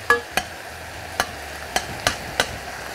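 Meat going into oil in a pan for a beef curry: a faint low hiss under six sharp, separate clacks that sound like a utensil tapping or scraping the pan, spaced irregularly and close by.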